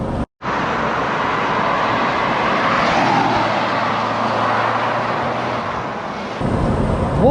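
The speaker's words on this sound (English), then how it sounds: "The turbo's coming in and out with a bit of turbo lag." Lotus Europa S turbo engine under way, a loud continuous drone with road and wind roar that holds steady, briefly drops out near the start, then rises slightly toward the end as the turbo comes in and out.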